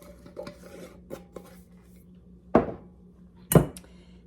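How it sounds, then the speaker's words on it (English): Coarse sea salt poured into a bowl for homemade bath salts, heard as two short gritty rattling spills about a second apart, with faint small clinks in a quiet kitchen. "Now we're gonna add a 1/4 cup of sea salt."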